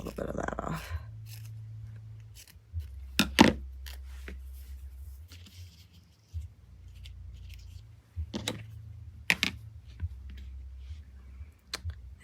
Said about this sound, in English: Cut a little bit of that off.